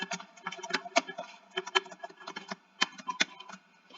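A password typed on a computer keyboard, quick irregular key clicks in short bursts, close and fairly quiet, with no talk.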